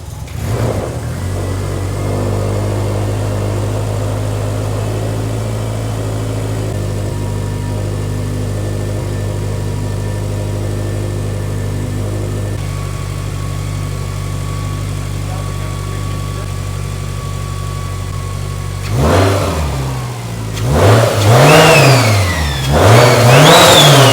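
A Subaru STI fitted with a T51R turbo, an 800 WHP build, cranks and settles into a loud, steady idle, then breaks into several sharp rising and falling revs close by, with no voices.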